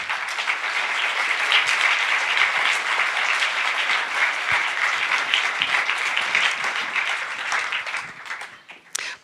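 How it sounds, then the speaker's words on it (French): A large audience at a film festival closing ceremony applauds a filmmaker warmly, with dense, sustained clapping that fills the hall and tapers off near the end. "Je vous invite à l'applaudir chaleureusement"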